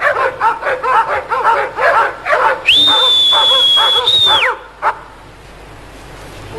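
A dog barks in a quick, steady run, then a long, clear whistle holds one high note. One more bark follows, and it falls quiet.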